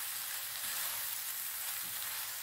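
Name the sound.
minced meat with vegetables sizzling and browning in a pan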